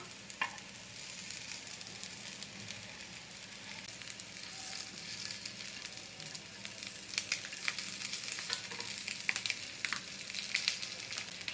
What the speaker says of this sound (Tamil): இதே மாதிரி எல்லாத்தையுமே எல்லா பக்கமும் பொரிய வச்சுட்டு எடுத்துடலாம்